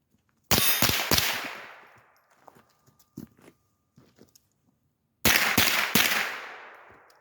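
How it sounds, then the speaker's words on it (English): Two sharp, loud rifle shots fired at a target during a tactical sling drill, several seconds apart, each with a long ringing decay, separated by a few faint handling clicks and bumps. "I cut around, had the rifle on my left side, shot the target"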